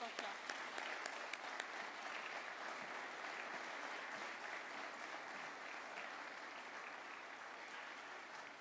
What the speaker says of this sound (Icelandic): Gefum við gott klapp